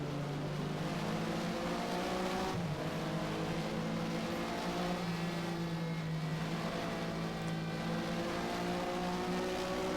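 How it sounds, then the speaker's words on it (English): A Porsche race car engine in the Race07 sim at Catalunya drones steadily and loudly, the pitch holding through a broad sweeping curve with small throttle modulations and one brief dip. "You kind of play with the throttle as you go through there, kind of steer with the throttle."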